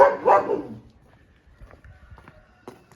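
A single short bark from a very old dog up front, fairly close, followed by quiet shuffling and faint scattered clicks, on a frosty morning.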